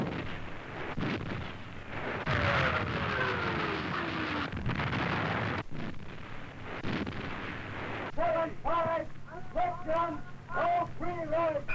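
Heavy naval guns on a warship firing in a 1940s sea battle, booming blasts rolling loud and continuous with a whistling shell and broadband roar, followed near the end by a rhythmic tonal wail like a siren or alarm.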